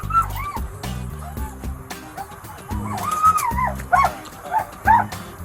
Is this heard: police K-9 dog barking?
yes